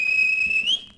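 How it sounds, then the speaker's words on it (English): A railway guard's whistle at a station blows one steady, shrill, piercing note for nearly a second, rising briefly in pitch at the end before cutting off, heard alone and fairly close. "and the guard whistled"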